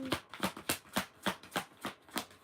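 Rapid riffling of a card deck, about nine quick bursts in a steady rhythm, close and clear with no talking.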